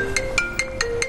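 A phone ringtone cuts into a Pakistani TV talk show on politics, sounding as five evenly spaced bright electronic chirps over a steady tone, fairly close and clear with no talk over it.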